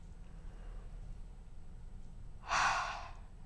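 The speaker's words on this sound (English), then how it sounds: "And take a deep yogic breath." A single deep yogic breath taken during a calm guided session, a soft rushing inhale-exhale that swells suddenly and fades within about a second, alone in a quiet room.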